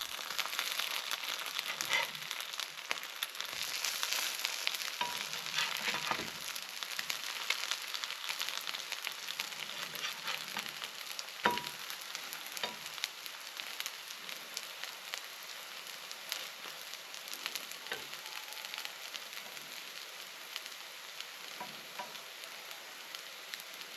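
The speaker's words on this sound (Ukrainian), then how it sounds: "Смажити найкраще на соняховій олії до хрумкої золотистої скоринки." Continuous crackling sizzle of potato pancakes frying in hot sunflower oil, with occasional louder pops and spits, steady and close, no talking.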